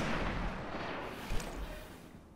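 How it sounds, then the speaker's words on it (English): A grenade explodes in midair after being shot in the game Destiny: Rise of Iron, a muffled, rolling blast whose low rumble hangs throughout and slowly fades, fairly quiet overall. "a grenade will explode if you shoot it out of midair"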